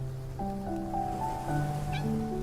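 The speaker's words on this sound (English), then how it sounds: "It's the kitten from before." A kitten in the video game Love and Deepspace gives a few soft, tonal meows in quick succession, close and clear over a faint background hum.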